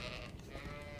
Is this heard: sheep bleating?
yes